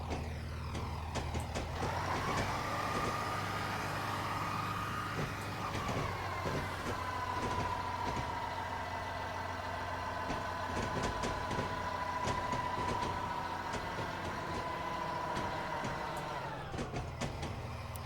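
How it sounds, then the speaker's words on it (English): A DMU diesel multiple unit in Train Simulator 20 runs steadily for the whole stretch, a continuous engine drone and rolling rumble with a rising then sustained transmission whine, punctuated by rhythmic clicks of wheels over rail joints. "I really do like a DMU."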